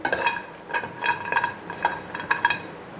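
Turmeric root and whole spices dry roasting for homemade kuzhambu chilli powder, stirred in a pan: irregular clinks and scrapes of a metal spoon against the pan, close and moderately loud, with no voices.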